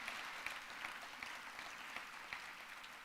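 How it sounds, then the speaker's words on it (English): A university audience at the Do Good Challenge finals claps steadily, a dense even patter at moderate distance that stays constant with no voices over it. "go ahead and applaud"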